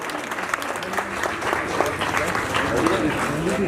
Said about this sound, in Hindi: तालियां इतनी कम संख्या में बज रही है